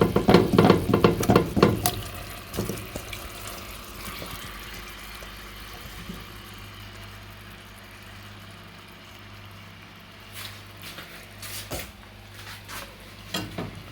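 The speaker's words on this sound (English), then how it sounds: "So now that our curry is reduced, we're going to add our boiled mangoes." Boiled mangoes tipped into a reduced curry and stirred, a burst of wet splashing, clattering and sizzling at first, then quieter intermittent scrapes and knocks of a spoon against the pot, close by with no voices.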